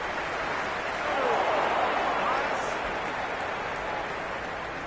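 A broad, steady murmur of a stadium crowd buzzing at a cricket match in the video game Cricket 26, swelling slightly and then holding even throughout.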